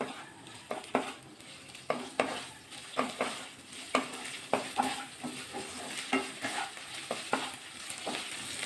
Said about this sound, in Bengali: 1/2 চামচ আদা বাটা দিয়ে দেবো। দিয়ে আবার একটু নাড়াচাড়া করে